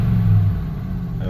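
A car with a P0300 misfire fault and no power has its throttle floored, the engine giving a loud, steady low rumble and roar close by throughout the short burst, without building revs.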